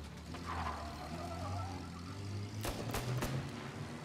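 A car drives in the video game Mafia, a low engine rumble holding steady at moderate level, with a few sharp clacks near the end and no talk.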